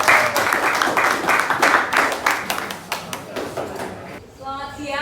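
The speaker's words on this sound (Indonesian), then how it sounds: "kasih tepuk tangan dulu semuanya" A class applauds after a group presentation in a school lesson, steady clapping from many hands that fades over a few seconds, ending with a brief voice.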